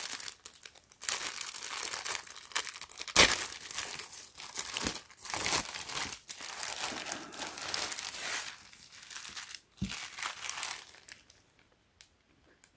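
A plastic bag around a Supreme x Leigh Bowery black tee crinkles and rustles as it is opened, a long stretch of close, dry crackling with sharp bursts and a brief tearing snap, fading near the end.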